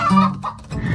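Farm chickens cluck in a quick, close burst of a few short calls, loud and clear with no talking over them.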